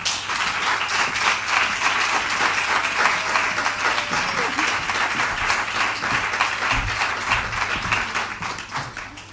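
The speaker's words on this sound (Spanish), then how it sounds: "Recibamos con un fuerte aplauso" An audience at a music therapy talk gives a long round of applause to welcome a speaker, dense steady clapping that carries on throughout before slowly thinning out.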